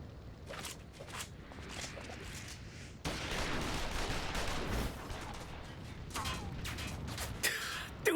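Sustained gunfire in a Final Fantasy XIV battle, a dense, continuous barrage that swells partway through and stays loud amid the combat din, with a few voices breaking through.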